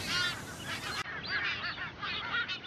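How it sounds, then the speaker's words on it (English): Tropicbirds on a Caribbean island in the British Virgin Islands give shrill, whistling calls in quick repeated bursts, close and loud, with several overlapping birds. "Sailors nicknamed them bosun birds because their calls sound like a bosun's whistle"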